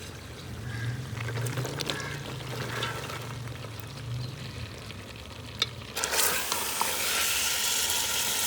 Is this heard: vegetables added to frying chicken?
yes